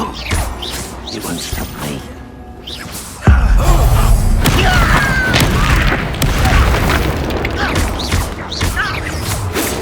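In Hogwarts Legacy a Bombarda exploding spell sets off a sudden loud boom, followed by a long crashing, rumbling tail of debris and mechanical clatter. A character speaks briefly over the game sounds.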